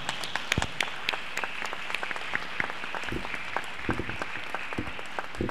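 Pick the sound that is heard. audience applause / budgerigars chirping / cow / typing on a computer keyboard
audience applause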